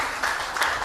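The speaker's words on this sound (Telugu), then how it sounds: "చప్పట్లు కొట్టండి ఒకసారి." A church congregation claps in a brief, soft wash of applause with a couple of slightly stronger swells, heard at some distance.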